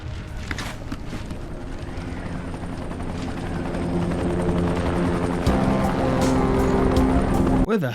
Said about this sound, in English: Where the hell did this helicopter come from?